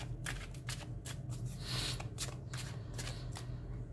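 Tarot cards shuffled by hand for a general card reading, a close, soft series of riffling bursts and slaps repeating irregularly, with no talking.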